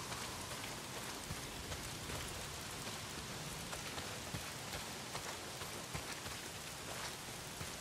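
Heavy rain pours steadily in the video game Days Gone, a dense, continuous hiss of drops close by with no talk over it.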